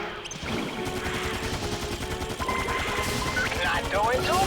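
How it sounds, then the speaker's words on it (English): Rapid machine gun bursts from a video game, dense crackling gunfire running continuously and intensifying toward the end. "Use the machine gun now."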